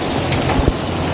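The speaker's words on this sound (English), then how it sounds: "However, it has started raining." Rain starting to fall outdoors on a Chinese New Year evening, a steady close hiss of drops on surfaces with a couple of faint thumps, no voices.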